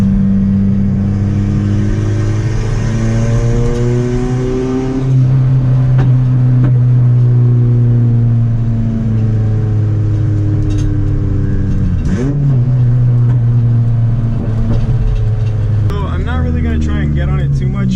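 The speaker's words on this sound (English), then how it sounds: "It's just ridiculously loud." A loud straight-piped exhaust on a turbocharged Honda Civic revs repeatedly, the engine note climbing and falling in long sweeps with a harsh, raspy rumble and sharp pops near the end.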